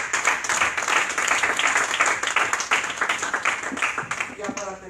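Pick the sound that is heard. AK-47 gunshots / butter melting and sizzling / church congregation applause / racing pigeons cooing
church congregation applause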